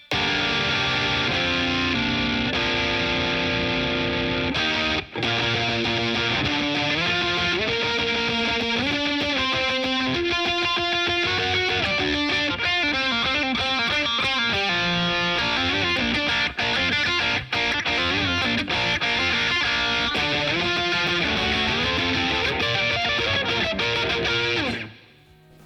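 Electric guitar heavily distorted through a Rat distortion pedal plays a continuous lead melody with sustained, gritty notes, loud and up close, fading out abruptly at the end.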